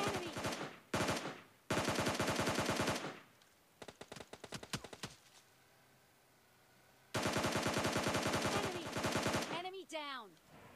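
PUBG Mobile Lite gunfire from a Scar-L: loud, rapid automatic bursts, a scattered run of single shots, then another long sustained burst, ending with a short whooshing sweep.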